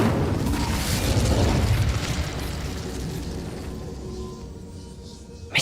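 A fiery Incendio spell blast in the video game Hogwarts Legacy, a loud booming burst up front that rumbles and slowly fades, with a sharp pop at the very end.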